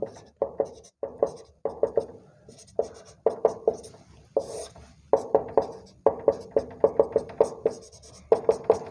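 Chalk or marker tapping and scratching on a board during a mathematics class, coming in quick, regular bursts of strokes with short pauses between them, close and fairly loud with no talking.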